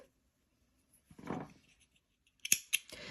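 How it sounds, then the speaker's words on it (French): Scissors snip crochet yarn: a soft rustle of handling, then two or three sharp, close metallic clicks in quiet surroundings. "Je coupe le fil."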